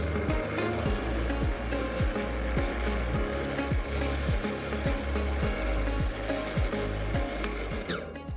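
A Cobra MX3840VX lawn mower cuts grass with a steady droning motor and a fast, regular sweeping pulse, moderately loud throughout and uninterrupted by speech.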